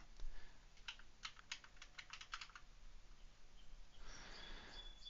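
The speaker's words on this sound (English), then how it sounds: "So now I'm going to start typing in here." Quick bursts of clicking keystrokes on a computer keyboard, close and clear, run for about two seconds, followed by quieter background noise with faint chirping.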